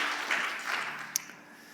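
Brief applause from a church congregation, a soft wash of clapping that swells and fades over under two seconds with one sharper clap near the end.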